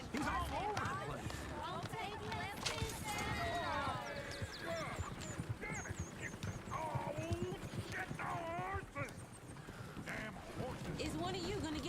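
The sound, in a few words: horse-drawn stagecoach in video game Red Dead Redemption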